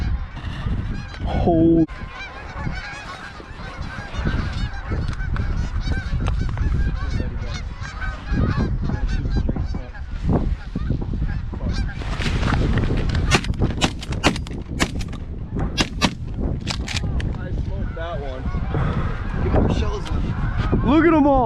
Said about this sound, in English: There's so many birds everywhere.